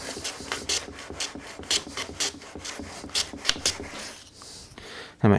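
Hand plane trimming the end of a small wooden box part on a shooting board, a run of repeated rasping strokes in a steady back-and-forth rhythm, close and fairly loud, ending in a sharper knock.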